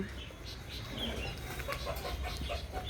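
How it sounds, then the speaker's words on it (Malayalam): Rooster clucks and calls come through in short bursts over a steady low background hum, with some faint voices mixed in. "നമ്മുടെ പൂവൻ വീണ്ടും വന്നിട്ടുണ്ട്"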